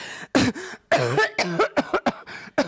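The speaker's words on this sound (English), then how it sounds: "just coughs like he was holding in a cough" A voice gives several short, broken coughs and throat-clearing bursts, close and fairly loud, in quick irregular succession.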